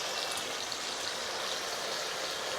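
A niramish dhoka mixture with tomato paste sautés in a pan, giving a steady, dense, close-up sizzling hiss that runs unbroken throughout.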